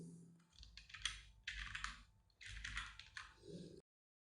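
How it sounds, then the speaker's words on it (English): Computer keyboard keys clatter in quick, close bursts of typing separated by short pauses, ending abruptly in silence. "So select this text tool and I'm going to type force."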